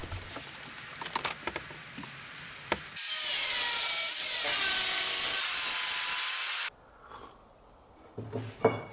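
Metal plates for a budget Citroen Berlingo camper build being cut and ground with a power tool, a loud steady rasping grind of about four seconds between scraping and clattering handling noises.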